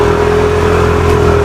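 Motorcycle engine idling close by, a loud steady low drone with a constant hum, unbroken for the full stretch with no voices.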